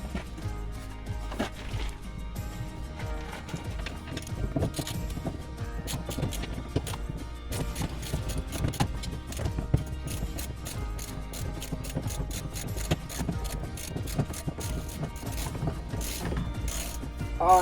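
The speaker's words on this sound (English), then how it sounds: "First thing I'm going to do is take my socket and ratchet, drop this steering column out of the way" Socket and ratchet loosening the steering column bolts under the dash of a Foxbody project car, rapid, close clicking of the ratchet pawl in repeated bursts, steady and loud throughout.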